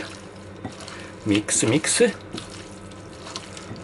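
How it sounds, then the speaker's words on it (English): Cooked pasta stirred into a miso soup sauce, a short burst of wet squelching and sloshing with a few soft clinks, close by between quieter stretches. "Then dump this pasta into the sauce and"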